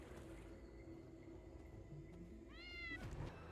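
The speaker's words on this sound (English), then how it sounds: "The cat is meowing." A cat in the online role-playing game Black Desert Online gives one short, clear meow late on, quiet against a steady murmur of game ambience.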